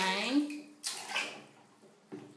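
Water sprays and splashes in a bath in short bursts between pauses, while someone talks over it.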